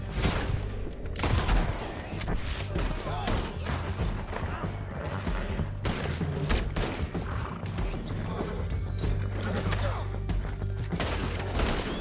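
Gunfire from the video game Red Dead Redemption 2: repeated sharp shots and volleys crack throughout a canyon chase. They are dense and loud, with occasional heavier thumps and raised voices mixed in.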